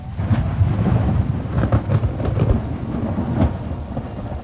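Heavy rain pours steadily while low rumbling thunder rolls through, loud and close, with no voices.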